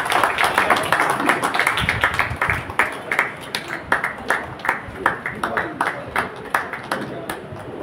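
Audience clapping at a felicitation ceremony in an Ambedkar hall, honouring a singer during a book launch event, a steady burst of many hands that thins into scattered individual claps toward the end.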